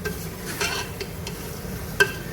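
Marinated chicken frying in a pan sizzles steadily while a utensil stirs and scrapes through it, with a few soft scraping strokes and one sharp clink near the end.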